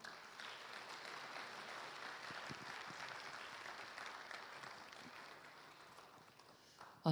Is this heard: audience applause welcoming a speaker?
yes